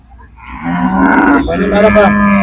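A cow moos loudly and close at a busy cattle market in Manapparai, one long, deep, sustained bellow that swells and wavers over faint crowd murmur.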